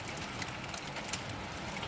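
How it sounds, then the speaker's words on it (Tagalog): Steady rain falling in Jerusalem, a soft continuous hiss of drops spread evenly across the whole stretch with no distinct pauses or talk. "Umuulan pa."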